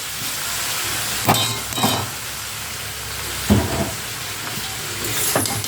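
Finely chopped spinach tipped into a hot pan of curry, setting off a loud, steady sizzling hiss that swells with a few bursts of sputtering as the greens hit the oil.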